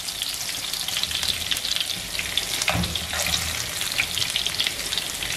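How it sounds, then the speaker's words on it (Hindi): Green chillies frying in a pan during a potato chapli kabab recipe, giving a steady close sizzle and crackle with a brief stirring clatter midway and no voices. "तब तक हम अपनी सब्ज मिर्च को भी फ्राई कर लेंगे।"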